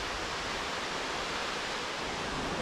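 The Salto do Rio Vermelho waterfall pours in a steady, dense hiss of falling water, heard from nearby on a forest trail, unbroken and even in level throughout.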